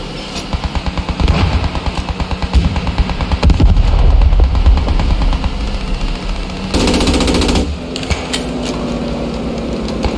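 Artillery and heavy gunfire in a video game: a dense, loud, continuous stretch of rapid booming shots and rumbling blasts that keeps going for the whole stretch, with no talk.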